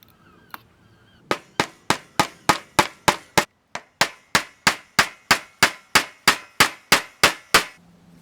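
Steady hammering of nails into scrap timber while assembling a DIY TV easel, about two dozen sharp, loud, close strikes in an even rhythm after one early tap, with no talking.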